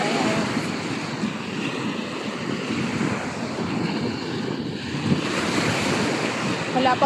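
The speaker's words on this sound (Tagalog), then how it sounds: "Medyo malakas ang alon." Steady ocean surf rolls onto Al Zora beach in the UAE, loud and continuous, with rough waves and wind buffeting the microphone.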